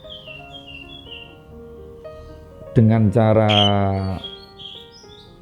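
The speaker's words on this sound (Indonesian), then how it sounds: "Ada beberapa cucak hijau yang memang dengan suara-suara yang bikin birahi melengking" A green leafbird (cucak hijau) gives a loud, shrill burst of song lasting over a second, preceded and followed by fainter chirping and someone talking over it.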